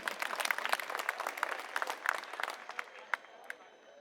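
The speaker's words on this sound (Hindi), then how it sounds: "मैं चाहूंगा एक बार जोरदार तालियां अपने लिए आप लोग बजा लीजिए।" Crowd at a political election rally in Kirari, Delhi applauding, a dense wash of many hands clapping with a few sharper individual claps, moderately distant and steady before slowly thinning out.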